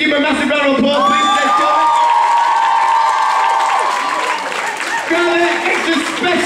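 A large crowd at the 2011 Phat Beatz b-boy battle final claps, cheers and whoops loudly and steadily, with shouting voices over dense sustained applause throughout.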